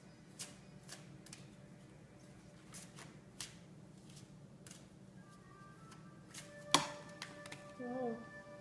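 Soft riffling and tapping of a deck of oracle cards being shuffled, repeated in short bursts, close and fairly quiet, ending with a sharper snap.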